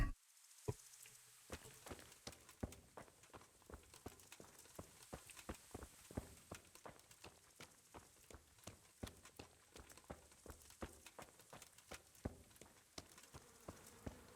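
Horses walking in the medieval video game Kingdom Come: Deliverance, hooves clip-clopping in a steady irregular patter of sharp clicks with faint ambient hum beneath, no talking.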